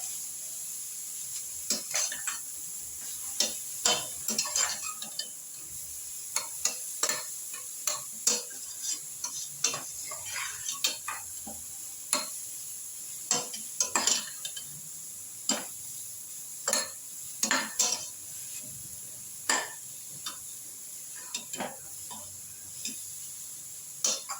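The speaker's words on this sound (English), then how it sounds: "Saute it until it changes its color." Carrot rice is sautéed in a pan, with a quiet steady sizzle under repeated scraping stirs of a spoon that come in irregular bursts throughout, close by and without voices.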